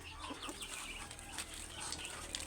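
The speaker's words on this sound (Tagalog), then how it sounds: "Daming manok guys for today's video." A crowd of farm chickens clucks and murmurs at once, a dense, busy layer of overlapping calls at moderate distance, steady throughout with no clear talk.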